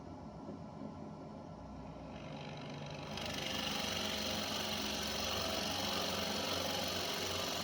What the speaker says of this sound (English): we'll just go ahead and use this Forstner bit I already had in the chuck